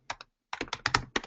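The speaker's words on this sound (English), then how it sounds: "speaking and typing at the same time" Bursts of computer keyboard typing while a user interface is built, starting with two quick keystrokes, then a short pause and a denser run of clattering keys, close and clear.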